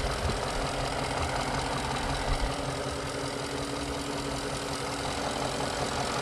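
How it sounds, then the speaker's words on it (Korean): A 5.0-litre V8 engine of a Genesis G90 idles with a low, even rumble, steady and fairly quiet, with no talking. "엔진 소리, 아이들링 상태의 엔진 소리입니다. V8 엔진."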